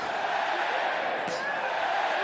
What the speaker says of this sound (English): The crowd now with every kick Silva delivers, getting firmly behind the Pride World Middleweight Champion